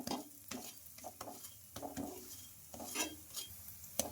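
A rumali paratha roasts on an oiled pan, sizzling steadily while it is pressed down and turned, with soft scrapes and taps of a spatula breaking through at irregular intervals, close and alone.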